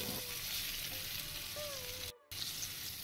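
Ridge gourd and potato pieces fry in a pan with salt added, giving a steady, close sizzle that continues almost without a break, apart from a brief dropout.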